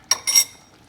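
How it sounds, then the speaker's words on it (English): Egg shell cracked with a knife: two quick, sharp close taps, the second slightly longer with a faint metallic ring, then quiet. "I just use the knife to crack just to make sure that I don't damage the yolk in the process"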